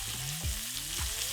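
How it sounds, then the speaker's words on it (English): Rack of lamb searing fat-side down in a hot pan, its rendered fat giving a steady, close sizzle that stays even throughout with no talking. "Sear the bottom of the rack for about 3 minutes or so."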